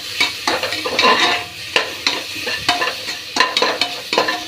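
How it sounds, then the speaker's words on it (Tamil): Tomatoes, onions, coriander and mint sautéing in a pan for mutton biryani, with a spoon scraping and stirring in quick uneven strokes over a soft, continuous sizzle; close and fairly loud, no talking. "நல்லா வதக்கி விட்றேன்."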